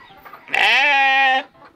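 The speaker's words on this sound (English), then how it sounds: "Listen to the rooster." A rooster gives a single loud, close crow lasting about a second, with a rising, strained tone that breaks off abruptly.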